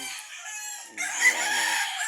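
Chickens clucking and calling nearby, with a brief rooster-like cry rising over steady farmyard background noise, no talk.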